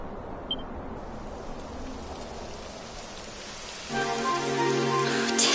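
Steady rain falls in Dragon Quest 11, a dense even hiss of drops that thickens and grows a little louder partway through, with no voices.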